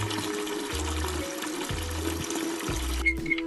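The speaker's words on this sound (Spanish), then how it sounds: "Llenaré la piscina con agua." Water runs from a hose into a pool with a steady splashing trickle, accompanied by a low, pulsing mechanical hum that cycles on and off in short bursts.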